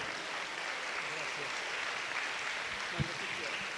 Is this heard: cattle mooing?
no